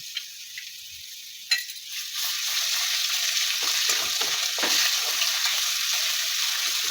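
Garlic and ginger paste dropped into a hot pan, bursting into a loud, steady frying sizzle after a sharp clink, close up with no voices.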